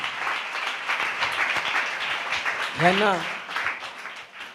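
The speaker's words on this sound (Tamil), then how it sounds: "நல்ல கைத்தட்டி ஆண்டவருக்கு நன்றி சொல்லுங்களேன்" A church congregation claps hands together in thanks to God, a sustained loud wash of applause while a preacher speaks over it.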